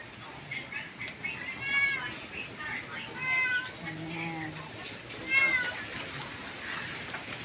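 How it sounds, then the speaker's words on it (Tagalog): A stray cat meows several times in separate, drawn-out calls outdoors in a home garden, close by, with a person talking softly between the meows. "Ayan, may pusang gala."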